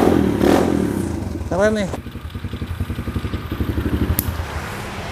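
An SK 110 Pro mini trail motorcycle, a 2024 model, starts up and settles into a steady, pulsing idle close by, with a person speaking briefly over it.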